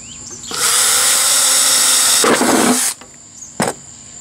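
A power drill whirs loudly for a couple of seconds while boring a 1/8-inch hole for making char cloth, its pitch shifting under load, then stops, followed by a brief short burst.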